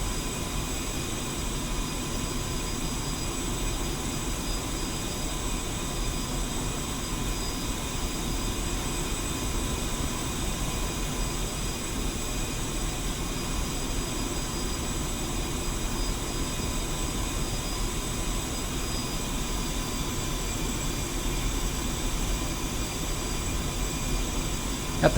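A Su-25T attack jet taxiing in the flight simulator game Digital Combat Simulator, a steady droning engine whine with a low rumble that holds constant throughout.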